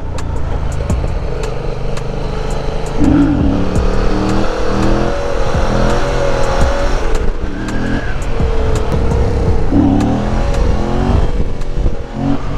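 An XJ6 motorcycle engine revs hard and steadily nearby, its pitch climbing and dropping in repeated surges for the whole stretch, with no talking.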